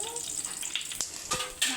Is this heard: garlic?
yes